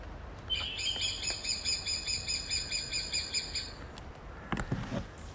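A superb lyrebird mimics a woodpecker with a fast, repeated series of sharp, rattling chirps lasting about three seconds, fairly close and clear over a quiet outdoor background, followed by a few brief scattered calls.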